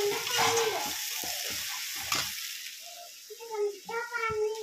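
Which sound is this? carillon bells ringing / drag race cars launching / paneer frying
paneer frying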